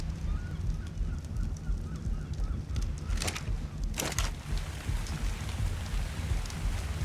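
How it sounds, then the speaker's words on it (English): Steady rain pours across the scene in the survival game ARK, a dense even hiss with a couple of brief louder splashes, heard alone with no voices. "Speaking of rain"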